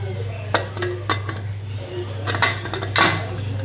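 Metal pots, lids and utensils clink in a home kitchen as a pressure cooker lid is handled over a simmering mushroom biryani, several sharp clatters spread out over a steady low hum.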